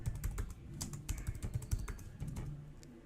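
Fingers type a keyword on a computer keyboard in a quiet, quick patter of key clicks that runs steadily throughout.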